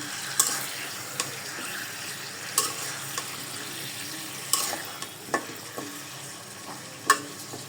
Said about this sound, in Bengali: এবার আমি এটাকে হচ্ছে কিছুক্ষণ হাই ফ্লেমে ভেজে নেব মাংসগুলোকে